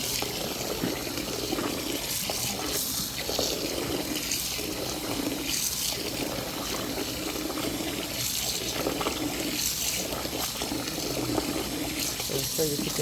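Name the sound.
water poured over soaking beans to wash off skins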